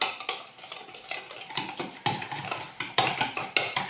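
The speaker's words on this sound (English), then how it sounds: "I'm going to whisk this all together till it's nice and smooth" A small whisk beats tomato pizza-base sauce in a bowl, giving quick, repeated clinks and scrapes against the sides in an uneven rhythm, close and moderately loud, with no voices.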